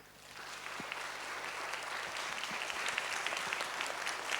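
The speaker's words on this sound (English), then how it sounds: "Please, one more big round of applause for Chef Dave." Sustained applause from an audience at the close of an opening keynote at a conference, steady broadband clapping that builds slightly and continues without speech.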